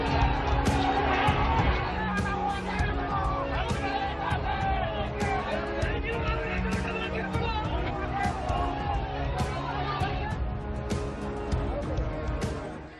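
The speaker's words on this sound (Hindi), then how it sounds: "राठौड़ के हीरो की तरह स्वागत के लिए इतनी भीड़ जुट गई" A large crowd of supporters gathered to welcome a minister named Rathod, heard as a loud, dense roar of shouting and chatter from many voices close by, with cheers and yells rising throughout.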